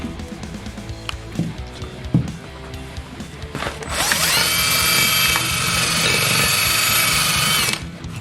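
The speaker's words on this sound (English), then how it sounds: "I'm gonna take wire brushes to this stuff here while he's taking that to the alternator bracket" Power wire brush scouring engine parts and an alternator bracket: a few clunks and taps, then a loud steady high-pitched whirring grind for about four seconds before it stops.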